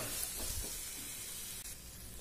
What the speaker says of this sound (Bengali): এবার এগুলো ভালো করে আবার কষিয়ে নেব।